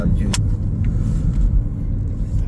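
Steady road rumble from inside a car on a highway in Indonesia, following a vehicle hauling motorbikes, with a constant loud low drone of engine and tire noise and a brief voice near the start.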